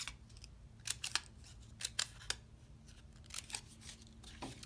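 Scissors snip through paper while cutting out a paper sunflower in a first-grade art lesson: a series of crisp, close cuts in small irregular bursts over a quiet background.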